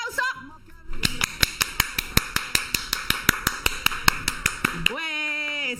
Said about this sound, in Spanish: Eso es lo que me gusta, los aplausos.